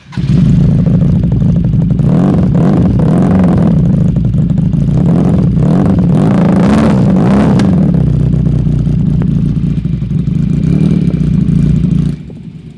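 A water-cooled twin-cylinder motorcycle engine idles with a throaty rumble and is revved several times in quick bursts, close and loud, before settling and cutting off.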